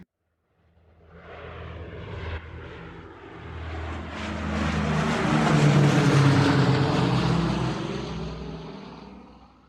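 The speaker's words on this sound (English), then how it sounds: "We're now heading back on the plane from Tasmania" An airliner engine roars in flight from Tasmania to Melbourne, a broad cabin rumble that swells and holds steady for several seconds after a quiet start.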